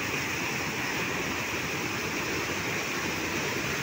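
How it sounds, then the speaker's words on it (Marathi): A river in flood, swollen by water from the Adhala dam, pours by in an unbroken, dense rushing roar. The sound stays loud and even throughout, with no talking. "प्रमाणापेक्षा नदीला जास्त पाणी आलेलं आहे"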